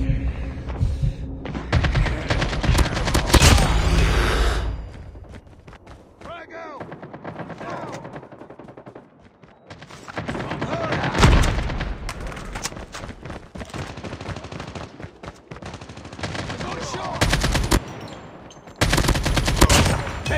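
Gunfire in the mobile shooter Call of Duty Mobile battle royale comes as repeated loud bursts and single shots over a throbbing background hum, with quieter gaps between the exchanges.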